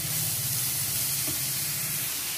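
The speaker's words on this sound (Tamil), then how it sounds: "இந்த பேஸ்ட்டை நல்லா பச்சை வாசனை போகிற அளவுக்கு நம்ம நல்லா வதக்கிக்கணும்" Ginger, garlic and coconut paste sautés in a hot pan for a cauliflower pepper fry, giving a steady, close sizzle with soft stirring scrapes throughout and no talking.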